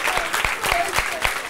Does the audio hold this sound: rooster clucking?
no